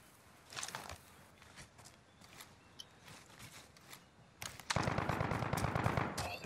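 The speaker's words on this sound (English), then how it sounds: "Oh, they're shooting." Bursts of video game gunfire in Warzone, a sparse scattering of distant shots giving way to a dense, loud sustained volley in the final seconds.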